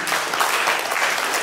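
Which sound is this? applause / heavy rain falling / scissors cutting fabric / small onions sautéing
applause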